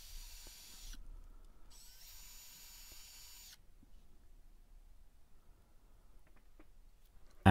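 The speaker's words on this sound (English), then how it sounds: "I'm just going to drill a few more pilot holes." A high-pitched power drill whirs in two short bursts, the second longer, drilling pilot holes in scrap wood, followed by quiet handling noises and a few faint clicks.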